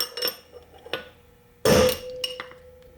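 Metal hammer strikes shock the cap screws on a Doug Nash 4+3 overdrive, a few light ringing taps followed by one louder, sharper clank that rings on briefly, close and alone.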